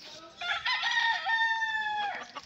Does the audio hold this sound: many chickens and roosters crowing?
yes